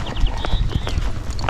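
Hooves of a Tennessee Walking Horse clip-clop on the ground of a round pen, several quick, uneven steps close by.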